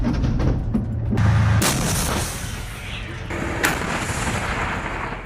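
Loud booming artillery fire with heavy blasts and sharp reports echoing across open ground, several shots close together over a rumbling background.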